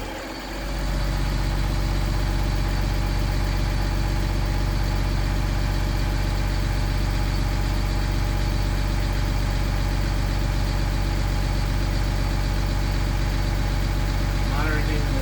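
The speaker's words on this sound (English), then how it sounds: "Fast idle on." A school bus engine runs on fast idle during a pre-trip check, a loud, steady low drone with a constant mechanical hum and vibration that holds for the whole stretch, with a voice speaking over it.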